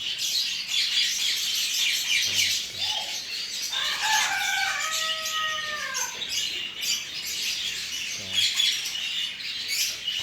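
Among pet birds and chickens, a rooster gives one long crow in the middle of a constant background of chirping and clucking, heard from a moderate distance.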